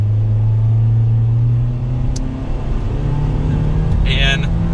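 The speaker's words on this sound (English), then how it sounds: "Let's give it a little bit of gas though to get up with traffic." A 2022 Nissan Kicks SV gives a steady low engine drone while accelerating to join traffic, its pitch edging up midway, heard from inside the cabin with road rumble beneath.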